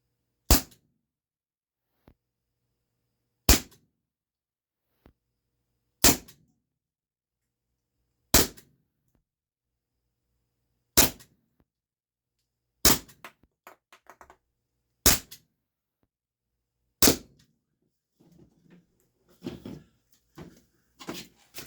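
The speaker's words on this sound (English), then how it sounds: "One pull and now it should shoot." A Walther PDP Compact T4E training pistol from Umarex fires eight sharp, close cracks, evenly spaced about two to three seconds apart, in an otherwise quiet room, followed by light handling clatter.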